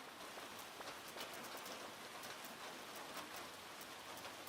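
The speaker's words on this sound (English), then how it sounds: "It's really raining, too." Rain in the video game Luma Island falls steadily, with a soft hiss and crisp scattered drops pattering on surfaces, quiet and unbroken by voices.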